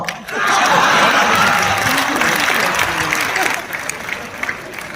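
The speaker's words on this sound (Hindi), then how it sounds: "आपको आनंद आए तो फिर मुझे तालियां आपकी चाहिए" A crowd at a Hindi comedy poetry gathering breaks into loud, dense applause with some cheering, swelling quickly and holding strong before easing slightly toward the end.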